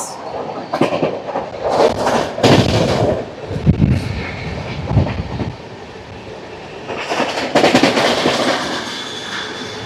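Garib Rath Express, the Visakhapatnam–Secunderabad train 12739, runs through Madira station without stopping: a loud, continuous rumble and rattle of coaches with bursts of wheel clatter and rushing wind, no voices.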